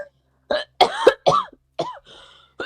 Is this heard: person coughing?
yes